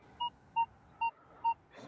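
Metal detector signal tone while searching an old farmstead: four short, evenly spaced electronic beeps of the same pitch, clear and close against a quiet background.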